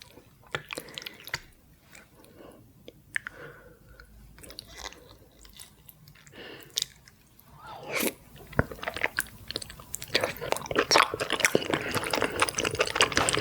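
Chewing spicy braised beef feet in close-up mukbang eating: sticky, wet bites and crunchy chewing come in scattered bursts, growing denser and louder toward the end, with occasional liquid slurping.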